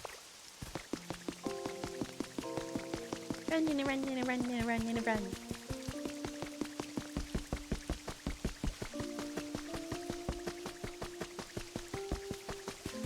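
Rain falling in the video game Pokopia, a steady patter of drops under tonal game music, with a voice briefly speaking over it.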